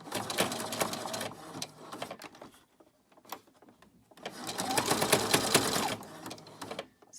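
A sewing machine stitches fabric scrap twine into a coaster, running in two close whirring bursts separated by a short pause with faint handling sounds.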